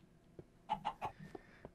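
Minecraft chickens cluck in a quick run of three or four short, bright calls near the middle, with a few softer clucks and taps before and after, close and clear with no talking.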